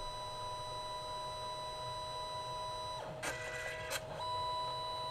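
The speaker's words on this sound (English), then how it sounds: "Seems to be grabbing a sheet of paper, feeding it through the printer at this point." An HPRT compact portable photo printer grabs and feeds a sheet of paper, a steady electronic hum joined by a short burst of whirring mechanical feed noise with a couple of sharp clicks, close and alone.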